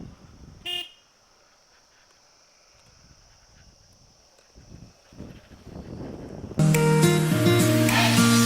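A car horn gives one short honk on a winding mountain road between Darjeeling and Pelling. Quiet road ambience follows, and loud music cuts in toward the end.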